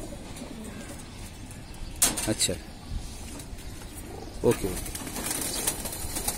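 Pigeons in a home loft coo in low rolling calls, with bursts around the middle and later, while people talk nearby over the birds.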